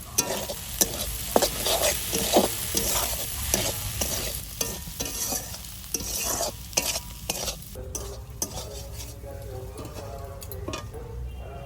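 Taro flowers fry in a pan while a spatula stirs and scrapes in repeated, rhythmic strokes over a constant close sizzle; faint voices can be heard in the background.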